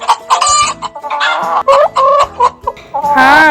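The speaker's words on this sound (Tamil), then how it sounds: "இப்ப பாரு, எல்லா கோழியுமே வந்து சாப்பிட போகுது." Chickens, a rooster among them, cluck in quick, loud bursts at close range while eating rice, with one drawn-out higher call at the end.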